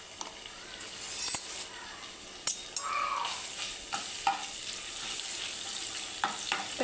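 Ginger garlic paste fries in hot oil for khichdi, giving a soft, steady sizzle broken by the clinks and scrapes of a spoon stirring the pan.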